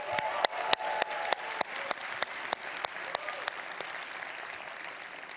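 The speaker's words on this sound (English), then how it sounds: "let's give them another round of applause" An audience at a startup accelerator demo day claps in a fairly even rhythm of distinct, crisp claps that gradually thin out and fade.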